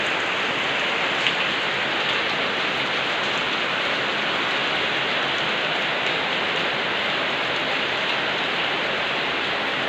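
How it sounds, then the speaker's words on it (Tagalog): A downpour of heavy rain roars steadily throughout, a thick, unbroken wash of drops with no voices. "Lakas ng ulan"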